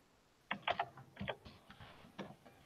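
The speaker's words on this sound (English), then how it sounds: "it's going through your camera because I can hear you typing" Quiet typing on a computer keyboard: irregular bursts of light key clicks, some in quick clusters, heard close and faint with no voices.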